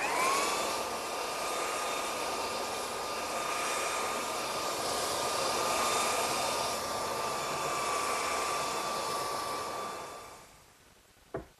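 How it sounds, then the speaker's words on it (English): Belt sander running steadily on a wooden drop-leaf table top, worked along the grain; a loud, continuous whine with a constant tone that holds for about ten seconds, then cuts off abruptly with a brief knock. "You don't want to let the sander sit in one place, or else it'll dig a real deep hole in there."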